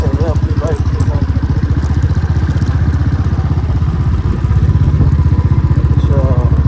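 Motorcycle engines chug and rev unevenly as riders struggle up a rough path at Rohtasgarh Fort, a loud close pulsing thrum with clatter throughout.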